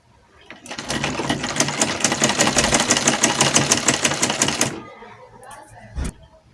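A sewing machine runs a dense, rapid stitching burst for about four seconds while joining dress fabric along a half-inch seam near an under-bust curve, then stops abruptly, followed by faint handling sounds and a brief click.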